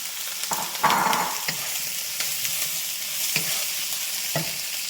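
Mushrooms hitting a hot frying pan for lo mein give a steady, close hiss and sizzle, broken by a few soft scraping stirs and taps.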